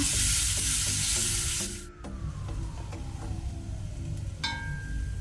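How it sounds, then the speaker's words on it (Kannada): Onions frying in oil in a pan, a steady close sizzle with some faint tonal background hum and a brief dip partway through. "ಈಗ ಈರುಳ್ಳಿಯನ್ನು ನಾವು ಫ್ರೈ ಮಾಡ್ಕೊಳ್ಳೋಣ. ಸ್ವಲ್ಪ ಕಲರ್ ಚೇಂಜ್ ಆಗೋ ತನಕ ಫ್ರೈ ಮಾಡುವ."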